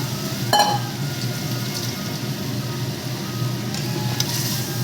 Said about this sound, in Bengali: সব কিছু কড়াইতে দিয়ে দিলাম এবার ওর মতন কষ্ট জল তো ছাড়বেই